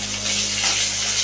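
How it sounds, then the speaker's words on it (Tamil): Peanuts and chopped green chilies fry in oil in a pan for coconut rice, giving a steady, close hiss and sizzle with no talk over it. "இப்போ நிலக்கடலையும் கொஞ்சம் வறுத்தோன்னு பச்சை மிளகாயை போடணும்."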